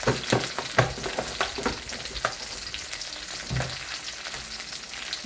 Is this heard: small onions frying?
yes